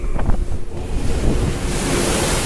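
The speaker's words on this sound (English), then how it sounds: "as the storm battered the vessel" Storm waves and strong wind pound a ship at sea, a loud, close, unbroken roar of surf and gusting wind buffeting the microphone.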